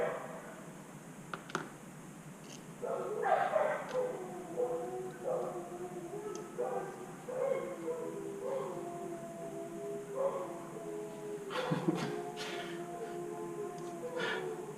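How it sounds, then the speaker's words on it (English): Dogs barking and howling out in a backyard, long drawn-out wavering howls broken by sharp barks and yips, heard at a moderate distance. "Dogs barking out in the backyard."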